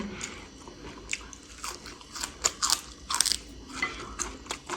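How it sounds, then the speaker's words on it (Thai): Raw mustard greens, a local German garden variety, crunched and chewed up close, crisp leafy bites followed by moist, irregular chewing with no talking. "อันนี้กินดิบจ้าผักกาดซอยทุกคน ผักกาดซอยกินดิบจะขมอำลำเลยพี่น้อง"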